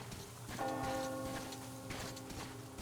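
Church bell ringing in the video game Metro Exodus, a clear tolling strike with sustained ringing overtones that fade slowly over steady rain-like ambient noise.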